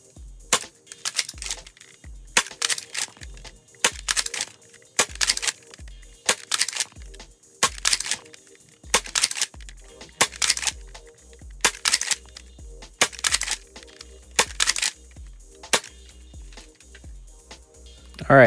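Adventure Force Nexus Pro foam dart blaster with the included 12-round magazine, fired repeatedly over a chronograph: a string of sharp, close snapping shots spaced about a second apart, each with a brief mechanical clack, no talk.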